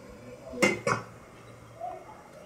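Two quick metallic clinks of a lid lifted off a pot of cooking ragi flour, close and fairly loud, followed by quiet kitchen background.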